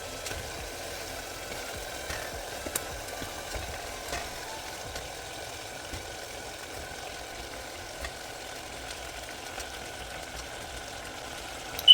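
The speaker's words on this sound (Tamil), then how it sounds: "இப்போ மட்டன் சேர்த்துட்டேன். இது நல்லா கிளறி விட்டுக்கலாம்." Mutton pieces fry with tomatoes in a pan and are stirred, producing a faint, continuous sizzle with scattered small clicks and scrapes, without any voices.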